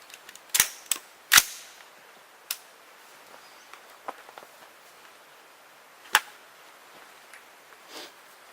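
5.56 green tip NATO armor-piercing rounds strike a BallistiCore ballistic barrier panel outdoors: sharp, loud single cracks, two close together at the start, then sparse isolated shots with quiet gaps between.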